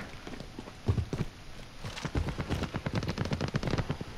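Rapid bursts of gunfire crack and rattle in the video game Warzone, scattered at first, then dense and continuous, fairly close and loud with no talk over them.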